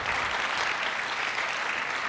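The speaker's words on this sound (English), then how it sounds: "You can applaud." Conference audience at a keynote address breaking into steady applause, a continuous dense clapping texture at moderate distance with no talking over it.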